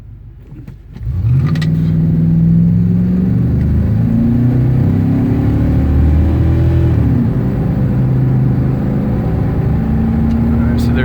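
An AWD 5.0 Ford Ranger accelerates hard from a standstill to 60 mph on a slight uphill. A loud engine note climbs steadily, drops at a gear change and climbs again, droning continuously from inside the cab.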